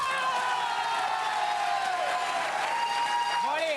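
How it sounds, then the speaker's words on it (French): A studio audience applauds continuously and loudly, the dense clapping filling the whole stretch with no pause. "on va parler sur les applaudissements"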